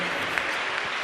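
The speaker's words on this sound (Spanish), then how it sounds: "Demos un fuerte aplauso al Señor" Brief burst of church congregation clapping, dense and steady for about a second, with voices faintly mixed in.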